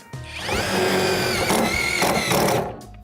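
A Dnipro M DTD-201BC cordless impact driver drives a screw, starting with a sharp rising whir and then a loud steady buzz with brief stutters before it winds down, all close and with no voices.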